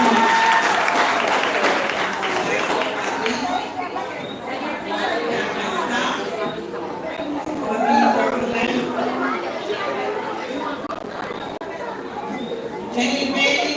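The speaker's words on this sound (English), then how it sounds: "Give them a round of applause, everyone." Applause fills a pre-K school leaving ceremony, with steady clapping from the audience mixed with crowd chatter and voices throughout, the sound continuous and moderately loud.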